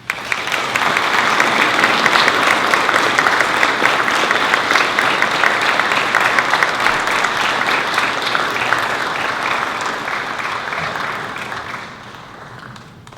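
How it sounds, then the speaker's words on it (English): Audience applause at a Red Cross heroes awards event in Delaware, Ohio, honoring a healthcare hero: steady, dense clapping from a large crowd that holds strong for about eleven seconds, then thins and fades near the end. "join me in a round of applause for Ruth Downing"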